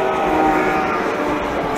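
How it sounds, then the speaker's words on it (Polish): A regional passenger train of Koleje Śląskie rumbles past nearby, a loud, steady roar of wheels and engine filling the whole clip. "Ja, koleje śląskie z Wisły jadą."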